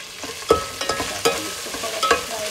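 Boiled chicken and garlic stirred while frying in a hot pan, with scraping clatters and clinks over a steady sizzle, no voices.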